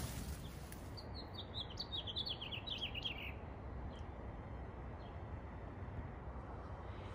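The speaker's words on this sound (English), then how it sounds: "It is house finch season." House finch song in a June forest garden, a quick run of bright warbling chirps in the first half, moderately near, over a steady low outdoor rumble, then only faint scattered calls.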